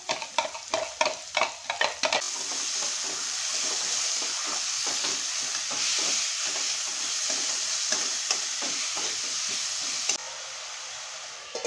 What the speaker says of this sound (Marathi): 3 ते 4 मोठे कांदे घेतले आहेत, ते मी ॲड करते आहे